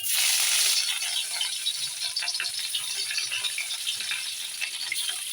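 Rohu fish pieces rubbed with salt and turmeric frying in hot oil, a steady close crackling sizzle, loudest at first and then settling into a constant spattering hiss with no talk.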